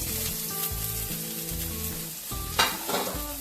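Finely chopped onion fries in a pan with a steady, close sizzle, a stirring scrape surging briefly near the end, and a low tonal hum running underneath.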